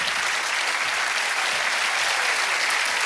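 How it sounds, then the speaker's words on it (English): Audience applause at a live fan event, a bright continuous roar of many hands clapping, loud and steady from start to finish. "Round of applause."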